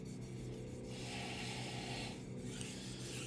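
A knife blade scrapes steadily back and forth on a Naniwa Chosera 3000 whetstone. The rasping strokes are close, soft and continuous and nothing else is heard.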